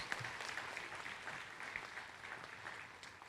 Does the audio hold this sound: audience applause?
yes